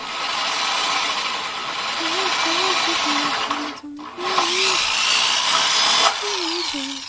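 A power drill whines steadily as it bores through a liner, a loud close mechanical drone with a brief pause midway, while someone sings over it.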